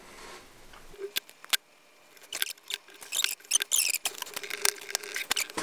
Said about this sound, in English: Take all the warning stickers off.